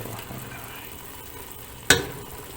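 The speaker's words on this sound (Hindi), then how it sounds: "अब इसके अंदर हम एक प्याली जो हमारे पास दही थी वो ऐड करेंगे" Yogurt goes into a pan of fried spices over a low flame for Lahori anda chanay, a soft steady sizzle broken by one sharp splash and hiss as it lands, then settling back to quiet frying.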